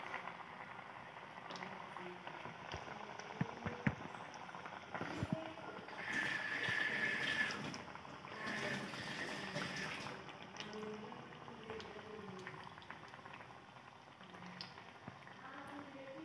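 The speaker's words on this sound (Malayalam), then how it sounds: "നമ്മളുടെ ഉരുളക്കിഴങ്ങ് നമ്മൾ ഉണ്ടാക്കി വെച്ച ആ മാവിലേക്ക് ഇട്ടിട്ടാണ് നമ്മൾ ബജ്ജി ഉണ്ടാക്കുക. ഇനി അതിനടുത്ത് എണ്ണയിലേക്ക് ഇടുക." Potato slices coated in batter frying as bhaji in hot oil, a steady bubbling sizzle that swells louder for a few seconds in the middle, with no talking over it.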